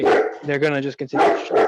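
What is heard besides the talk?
dogs barking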